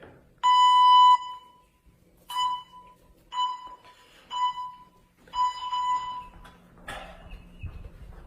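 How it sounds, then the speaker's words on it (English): A basic workout interval timer beeps loud and close. One long electronic tone sounds first, then a series of shorter beeps with gaps between them, in a quiet room. "I'm gonna go ahead and set up the timer here."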